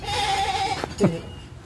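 A goat lets out a short, close bleat with a wavering nasal tone, followed by a brief second call.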